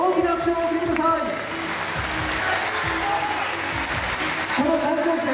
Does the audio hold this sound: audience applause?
yes